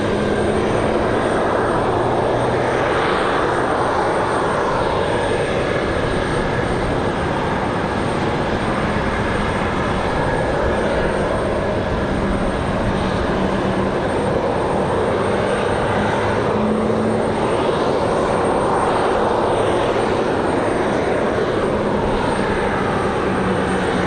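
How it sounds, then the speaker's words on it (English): Loud aircraft auxiliary power unit running at Raleigh-Durham International Airport, a steady, dense roar with a broad whine that holds constant throughout, heard from nearby in windy outdoor conditions. "I think our loud APU is that one over there."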